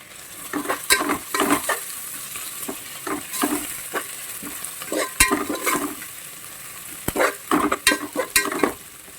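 Bay leaves and coriander leaves fry in a pan for pea pulao, with repeated close scraping stirs over a constant sizzle. There are no voices.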